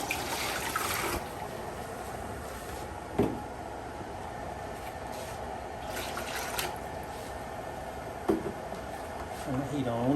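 Sumac berry juice is poured into a pot for jelly-making, a quiet liquid trickle and splash with a few sharper clinks and drips, under a faint kitchen background.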